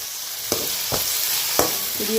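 Chicken sautéing in gravy in a hot pan for chicken idiyappam biryani, with a steady sizzling hiss throughout and three distinct spoon-scraping stirs spread across the clip, close and clear with no talking.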